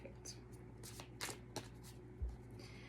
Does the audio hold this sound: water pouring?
no